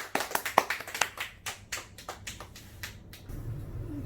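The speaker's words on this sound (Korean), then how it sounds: "박수!" A few scattered hand claps at the close of a televised debate, sparse and fairly faint, tapering off into a low rumble.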